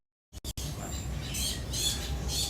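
A bird calls outdoors at Disney's Animal Kingdom in Walt Disney World, with faint chirps rising over steady, noisy park ambience after a couple of brief knocks at the start.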